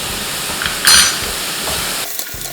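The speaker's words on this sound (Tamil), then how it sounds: "நம்ம சும்மா கொஞ்சம் பச்சை வாடை போகிற அளவுக்கு தான் இதை வந்து வதக்கணும்." Vegetables for pumpkin cutlets with salt, turmeric and chili powder sautéing in a pan, a steady hiss and sizzle with a brief louder stirring burst partway through.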